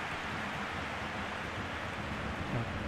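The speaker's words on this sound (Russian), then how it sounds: "Дождь так в слоумо красиво падает." Rain falling in slow motion during a PES 2021 football match, a steady soft hiss of broadband noise throughout, fairly faint and even, with no voices.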